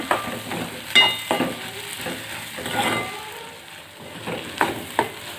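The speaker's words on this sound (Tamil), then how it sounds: "தேவையான அளவு உப்பு சேர்த்துக்குங்க. நல்லா கிளறி விட்டுக்குங்க." Eggs frying in a pan with salt for a dried-fish egg stir-fry, soft sizzling broken by several sharp spatula scrapes and taps against the pan.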